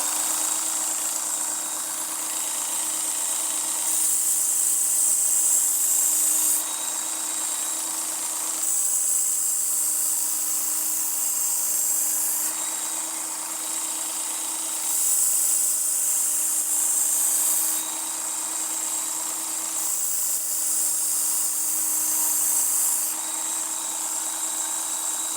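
A belt sharpener grinds steadily against a blade to raise a burr, a continuous high whine with a low hum underneath that swells slightly every few seconds as the edge is passed along the belt, close and alone with no talk.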